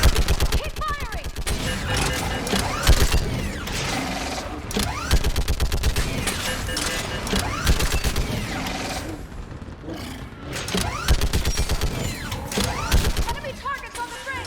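Dense, rapid automatic gunfire from Mass Effect 3 rattles almost continuously at close range with booming impacts, while voices talk over the battle.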